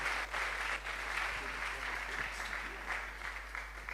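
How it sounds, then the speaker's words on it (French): A congregation claps loudly and continuously during a French-language Sunday church service, with a steady dense patter throughout and voices mixed in underneath. "Nous acclamons très fort pour le Seigneur."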